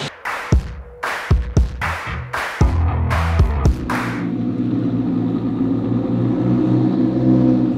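Race cars head out for qualifying: several sharp, loud engine bursts pass in quick succession, then give way to a steady, sustained roar of engines from the track for the rest of the clip.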